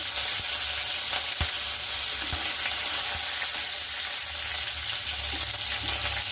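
Chopped ginger, garlic and curry leaves fry in a pan with a loud, continuous sizzle and crackle, broken by a few soft knocks of a utensil.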